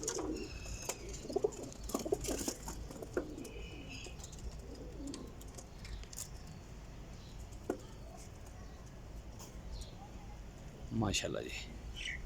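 Teddy Kamagar breeder pigeons coo softly in short bursts nearby, with someone speaking briefly among the low bird calls and some chirps.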